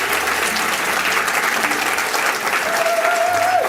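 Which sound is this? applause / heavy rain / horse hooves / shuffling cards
applause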